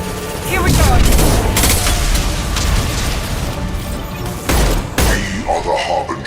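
Rapid bursts of gunfire in the sci-fi shooter Mass Effect 2, loud and dense with booming impacts, continuous through the clip with a heavier burst near the end, under occasional talk.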